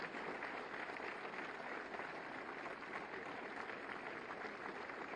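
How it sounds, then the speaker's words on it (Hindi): Audience applause at a government ceremony distributing appointment letters to homeopathic pharmacists, a steady dense wash of clapping that holds at an even, fairly quiet level throughout. "तालियां रुकनी नहीं चाहिए, हमें देखना है।"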